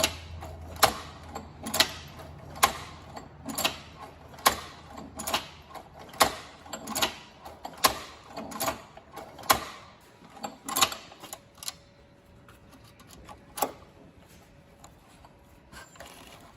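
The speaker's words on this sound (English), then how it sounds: "It is harder work sewing through the thicker material, but as you can see, the needle doesn't really have any problem going through there." A sewing machine drives thick thread through heavy material in a steady run of sharp, evenly spaced mechanical clacks, close and distinct, with a low motor hum beneath; the stitching slows and stops near the end, leaving a few isolated clicks.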